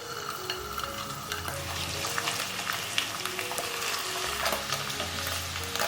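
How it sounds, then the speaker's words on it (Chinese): Shiitake (flower mushroom) caps fry in a little rendered chicken fat in a wok, giving a steady close sizzle with occasional stirring scrapes and clatter, no voices. "锅底留一点鸡油，把花菇放进来煎"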